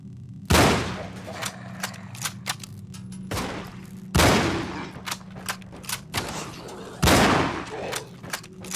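Gunfire bursts in a firefight in the video game Cryostasis, several loud volleys with sharp cracks and scattered single shots between them, a steady low hum underneath.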